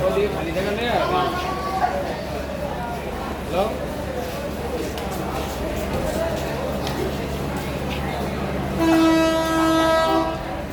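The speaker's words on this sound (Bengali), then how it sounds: "এই যে একটা ট্রেন ছেড়ে দিয়েছে এটা হচ্ছে লোকাল ট্রেন" A local train departing a station, its heavy rumble and wagon clatter continuous under people talking nearby, with a loud horn blast near the end.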